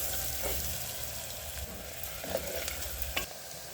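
Onions fry in a pan with turmeric, giving a continuous hissing sizzle close by, punctuated by a few light clicks and stirring taps, with nobody speaking.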